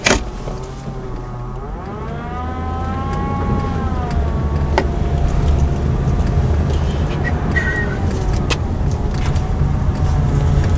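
A Chevy Impala 5.3L engine with a P0523 oil pressure sensor fault idles steadily up close, a low continuous rumble with a rising and falling whine over it.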